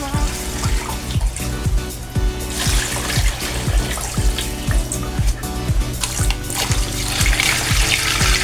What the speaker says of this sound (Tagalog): Tapos lagyan din natin itong timba ng tubig.